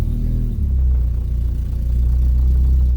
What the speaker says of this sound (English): Sounds like a jalopy with that leaky exhaust.